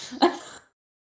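A single short sneeze, sharp and close, fading out quickly into silence.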